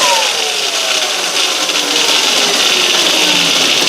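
An EBMX X-9000 electric motor fitted to a Yamaha WR250 bike spins up toward maximum RPM, a steady high whine with rising tonal sweeps that stays loud and continuous throughout.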